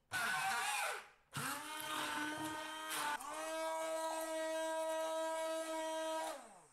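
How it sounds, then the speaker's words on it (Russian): A blender pureeing pumpkin sauce whirs loudly, stops briefly, then restarts and runs steadily at a high pitched whine before cutting off. "Пробиваю блендером до однородности."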